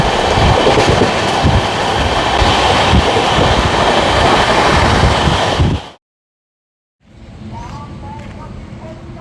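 Aboard the Balurghat SMVT Bengaluru Express, a loud continuous roar of the moving train with rattling carriage noise cuts out abruptly, then resumes more quietly after a short silence.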